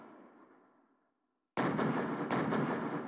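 In the video game Tales of Arise, a faint fading rumble gives way after a short silence to two loud, sharp gunshot blasts with ringing tails.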